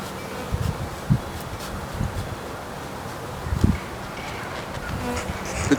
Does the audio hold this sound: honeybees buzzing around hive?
yes